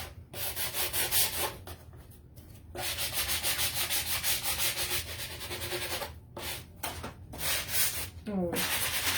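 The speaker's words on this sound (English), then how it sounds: "I'm gonna sand a little bit on the edges" Sandpaper rubbed by hand along the edges of a painted wooden Santa Christmas sign, close rhythmic scratchy strokes repeating in bursts with brief pauses between passes.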